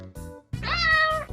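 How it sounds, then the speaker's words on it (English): A domestic cat lets out a single clear, drawn-out meow, close and distinct, with nothing else sounding. "A cat makes a meow sound."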